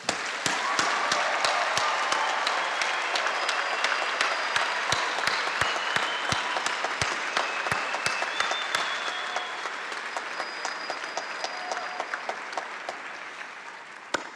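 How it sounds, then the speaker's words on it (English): Audience applauding graduate students at an LSU graduation ceremony, a loud sustained wash of many hands clapping with scattered sharp individual claps, slowly easing toward the end. "give our graduates a loud round of applause"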